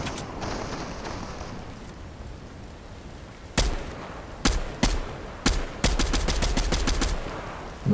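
Gunfire from an MK-alfa rifle in the Fortnite video game: after a stretch of low game ambience, sharp single shots ring out, then a rapid steady burst of evenly spaced rounds, loud and close.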